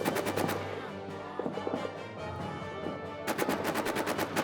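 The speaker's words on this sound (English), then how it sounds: "Yeah, they've just walked into machine gun fire." Machine gun fire in the trench warfare game All Quiet in the Trenches, rapid bursts of evenly spaced shots opening and closing the stretch with a busy battlefield din between them.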